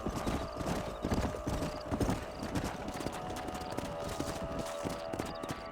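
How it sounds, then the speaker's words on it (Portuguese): Horses in Red Dead Redemption clip-clop along toward a canyon, a steady close rhythm of hoof strikes with a whinny, over a faint game music bed. "Guia os cavalos até o canyon."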